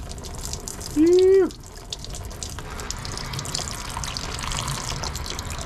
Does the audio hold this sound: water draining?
yes